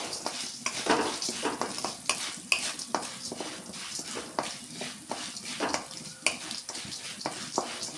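Cumin, coriander seeds and other spices for a curry leaf powder frying until golden in a pan, a steady sizzle broken by frequent scraping stirs, close and fairly loud with no talk.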